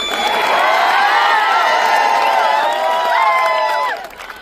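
Loud crowd cheering, whooping and clapping at a protest rally in Sambhaji Nagar, sustained for about four seconds before dropping off abruptly.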